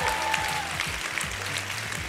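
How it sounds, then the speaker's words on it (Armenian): An audience at an Armenian song contest, Premiera 3, applauds two teams and their leaders. The clapping is a steady, dense wash that runs the whole short stretch, with a faint low voice or tone underneath. "ես ուզեմ բարձր ծափարենք երկու թիմերին և իրենց ղեկավարներին"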